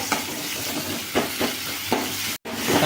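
Onions and tomatoes sautéing in a pan, with coriander, for a chicken dish: a steady close sizzle broken by a few scraping stirs, and a brief dropout just before the end.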